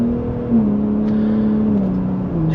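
A 2024 Ford F-150 Raptor pickup with a 3.5L twin-turbo V6 pulls under acceleration in sport mode, heard from inside as a steady engine drone with a brief dip like a gear change.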